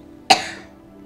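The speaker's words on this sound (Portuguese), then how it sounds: "Eita tosse, né?" A single sharp cough rings out close by, a sudden burst that quickly trails off into a brief fading tail in an otherwise quiet room.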